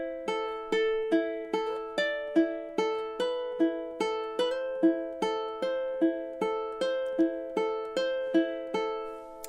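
Solo ukulele plays measures 2 and 3 of The Last of Us theme: a steady, unhurried sequence of about twenty plucked notes with some slid pitches, each decaying before the next, close and alone without speech.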